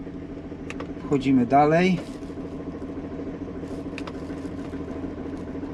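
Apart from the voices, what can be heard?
BMW car engine running roughly after starting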